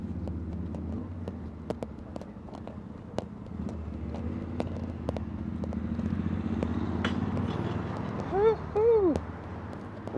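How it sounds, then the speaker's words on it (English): A motorcycle passes on a London street with rising and falling engine tones near the end, amid general street noise and clicking footsteps, with a voice talking at moments. "I hear something. Oh, it's a bloody motorcycle."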